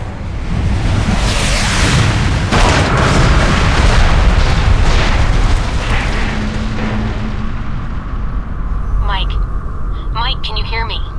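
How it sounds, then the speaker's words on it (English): Missile strikes explode in the Alpha Protocol video game, a loud sustained rumbling barrage of booms that slowly fades, with brief voices near the end. "I'm tracking multiple missiles homing in on your coordinates."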